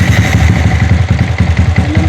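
Motorcycle engine running right after a new fuel pump install, a loud, close, steady idle with an even rapid pulsing thump and slight mechanical clatter, no voices.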